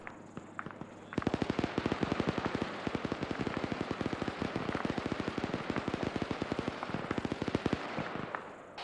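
Sustained rapid gunfire from a firefight in ARMA 3, during a Delta Force operation. Dense, loud bursts of shots rattle on almost continuously for several seconds, with a few isolated shots before them.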